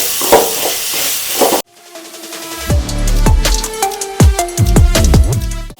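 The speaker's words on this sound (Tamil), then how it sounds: "இந்த ஸ்டேஜில் நம்ம கொஞ்சம் தக்காளி ஆட் பண்ணிக்கிறோம். இதே நல்லா வதக்கிக்கலாம்." Onions and tomatoes sautéed in a pan: loud hissing sizzle at first, then clanking and scraping of a utensil stirring against the pan amid continued frying.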